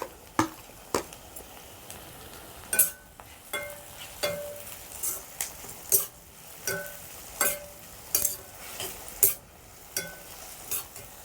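Chopped tomatoes go into onions sautéing in a pan for a village-style chicken gravy, with a spoon stirring and scraping in a steady rhythm of sharp clinks over a soft sizzle, close and without talk.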